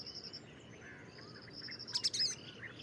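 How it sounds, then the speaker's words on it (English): A faint dawn chorus of birds, including white-browed bulbul and a sunbird, sounds at a distance. Quiet chirps and whistles scatter over a hushed background, with one brief, brighter burst of calls near the end. "You can hear a white browed bulbul. You can hear a house crow. And there is a purple drum sunbird."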